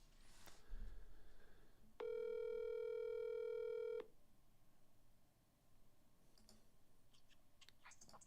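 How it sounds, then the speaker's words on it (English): Telephone ringing tone while placing a call, one steady electronic tone lasting about two seconds, clear against a quiet room with faint clicks afterward. "I'm going to call Steve, so get ready"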